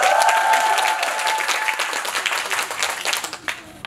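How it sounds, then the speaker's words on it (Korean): A cinema audience at a film screening event bursts into loud, dense applause that gradually thins and fades out over a few seconds, with faint voices and a whistle early on. "박수 한번 주세요"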